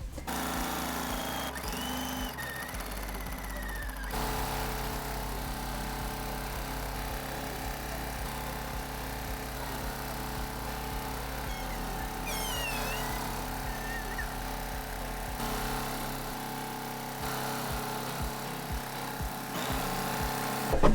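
A home sewing machine stitches straight quilting lines through a quilt, with a continuous close mechanical hum and rapid needle rhythm that stops and restarts a few times, and no talk.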